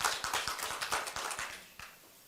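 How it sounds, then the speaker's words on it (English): A small audience at a live public health dialogue in Uganda gives a thin round of applause as a speaker comes to the stage: scattered, quiet hand claps that trail off and fade out within a couple of seconds. "Round of applause as he comes."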